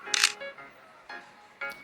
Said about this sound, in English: As the shutter button clicks